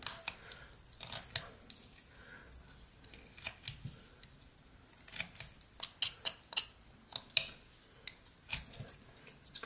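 Pocket knife blade carving a small wooden figure, giving a run of close, dry scraping and snicking cuts in irregular bursts, each short stroke sharp and distinct against a quiet room.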